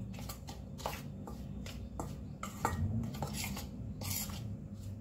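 A spoon clinks and scrapes against a pan while a sugar and salt mixture is stirred, making quick, irregular metallic taps close by.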